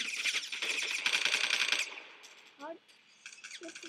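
Rapid automatic gunfire rattles in Phantom Forces as one dense, fast burst that stops abruptly, followed by a short quiet stretch with a brief voice.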